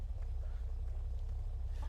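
Car driving in the video game DeadMatter, a steady low engine rumble heard briefly and evenly at moderate volume.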